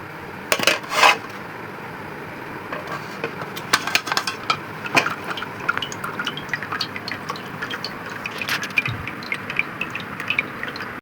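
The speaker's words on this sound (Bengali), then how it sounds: "এখন আমি এখানে একটা চাকনিতে ধরে নিচ্ছি" Homemade hair oil strained through a sieve into a bowl, with sharp metallic clinks and scrapes of utensils against metal, a thin pouring trickle, and scattered small taps close by, no talking.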